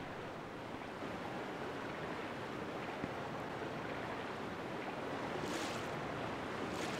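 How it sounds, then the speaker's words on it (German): Steady rushing water pours continuously, a dense broadband roar with no voices, like a waterfall cascading nearby, from the video game Resident Evil 2. "Ich höre das Wasser, aber ich glaube, das ist einfach nur das Geräusch, weil das hier runterfällt."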